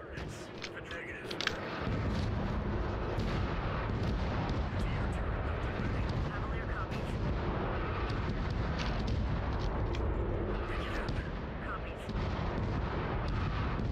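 Artillery bombardment in a video game: repeated heavy booms and blasts of shellfire roll in over several seconds, loud and dense, with a constant battle din underneath.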